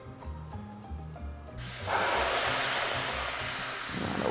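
A few soft clicks and handling sounds, then a long, loud aerosol hiss as cooking spray is sprayed steadily onto a pan for making galettes.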